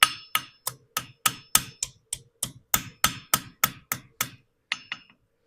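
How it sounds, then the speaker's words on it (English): A steady series of about fifteen sharp metallic hammer strikes on a steel hoof knife blade ring out alone at an even pace, pausing briefly before a few final taps. "so I'm going to hammer that back in again."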